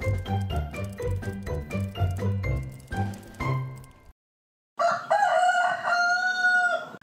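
A rooster crows loudly in the Blox Fruits video game, a single drawn-out call that rises alone after a short silence, following several seconds of rhythmic in-game music.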